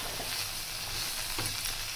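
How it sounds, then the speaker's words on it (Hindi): Chili, turmeric powder and garlic paste fry in a pan as the base for a bottle gourd stew, giving a steady, close, continuous sizzle with faint stirring, no voices. "मसालों को भी दो मिनट के लिए भूनेंगे।"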